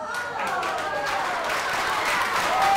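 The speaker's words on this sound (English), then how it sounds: "Give him a big round of applause" Steady crowd applause after a card trick at a magic show, dense clapping that holds throughout at a fairly constant level, with a hint of voices mixed in.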